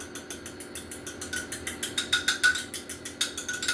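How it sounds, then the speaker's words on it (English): A fork whisks one large egg in a small cup, making quick, regular clinks and taps against the cup's side in a steady rhythm that speeds up partway through. The sound is close and moderately soft, with no talking. "I'm going to whisk together 1 large egg."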